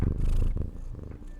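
Velcro the cat purrs in a deep, continuous rumble pressed close to the microphone, pawing and rubbing against it so the purr swells and dips unevenly.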